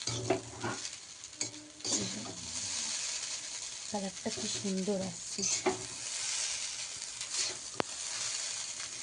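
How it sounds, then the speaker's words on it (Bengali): Chow mein noodles sizzle and crackle in a hot pan while a utensil stirs and scrapes through them; a voice speaks briefly over the frying. "আমি এরকমভাবে নাড়াবো"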